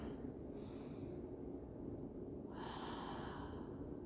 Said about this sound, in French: On inspire. On expire. On expire.